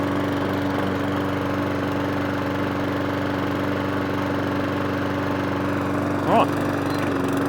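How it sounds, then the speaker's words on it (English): A lawnmower engine idles with a steady, close droning hum and a slight hunting waver, loud and continuous, with a brief spoken word near the end. "that was hunting and surging initially"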